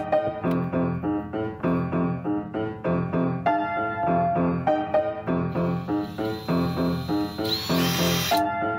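A dismantled cordless drill with extended wires, rigged for an electric-assist golf push cart, runs in short bursts, its motor whine rising and cutting out repeatedly in a stuttering rhythm, with a brief high hiss near the end.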